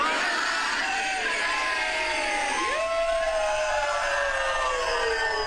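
A stand-up comedy crowd cheers loudly and steadily throughout, with whoops and shouts riding over a dense wall of applause and voices.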